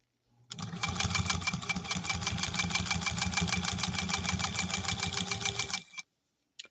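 A vintage sewing machine, a PFAFF 130-6 or a Singer 201-2, runs in one steady continuous stitching burst of about five seconds, with a fast even mechanical rhythm, heard close and alone before stopping.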